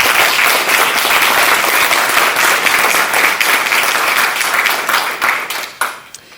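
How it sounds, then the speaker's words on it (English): An audience at a class celebration breaks into sustained, dense applause that holds steady before thinning out and fading near the end. "give them a round of applause"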